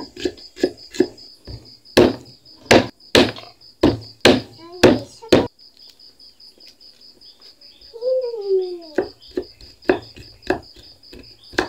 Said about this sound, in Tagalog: maghiwa tayo mga idol ng pangsangkap natin gagamitin